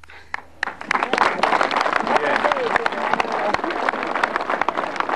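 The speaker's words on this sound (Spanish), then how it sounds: "Fuerte los aplausos, fuerte los aplausos para doña Inocencia Ríos desde lo más profundo del corazón" An audience claps at an outdoor housing project handover event in Cochabamba, a dense patter of many hands that builds quickly and continues steadily, with a speaker's voice over the clapping.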